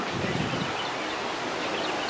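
Steady wind rushes and buffets outdoors, a constant broad roar with no other clear sounds.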